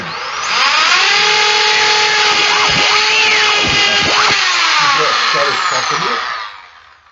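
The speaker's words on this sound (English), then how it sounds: "And we drill in." A loud electric drill runs continuously up close, its motor pitch wavering as it bores into wood for a model boat, then winding down at the end.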